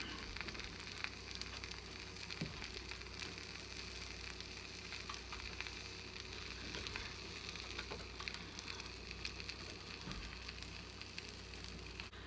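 French toast, batter-soaked bread, frying in a pan with a steady, quiet sizzle and crackle that runs without a break, and no voices.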